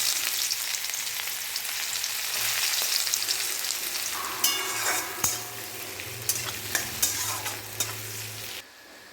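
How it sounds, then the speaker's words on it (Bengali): Chopped onion and green chili frying in hot oil, a steady broad sizzle with bursts of crackling spatter and a few sharp stirring knocks toward the end, close and fairly loud, before it cuts off abruptly. "তেল গরম হয়ে গিয়েছে, এর মধ্যে দিয়ে দেবো পেঁয়াজ কুচি আর লঙ্কা কুচি"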